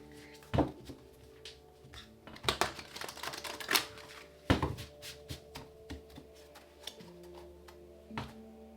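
A deck of tarot cards is shuffled close by in quick bursts of crisp clicking riffles and taps, with short pauses between them and no voices.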